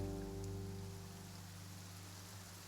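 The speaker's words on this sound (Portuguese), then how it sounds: "It's raining." Rain falling in a video game makes a steady soft patter at low volume under a sustained low tonal hum, with no talk.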